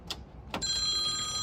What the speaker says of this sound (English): And of course, the phone rings.